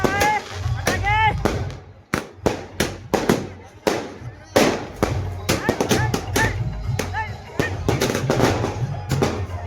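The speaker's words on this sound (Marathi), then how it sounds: "बघा आहे फटाके" Firecrackers burst at a Bhim Jayanti rally at a chowk in Yavatmal, a rapid string of sharp, loud cracks and pops with crowd voices and talk underneath.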